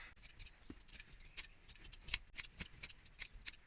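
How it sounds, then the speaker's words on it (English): Scissors snip repeatedly at close range, trimming excess material from a sofa cushion, quick sharp cuts in an uneven rhythm, with faint handling noise in between. "Cut the excess off."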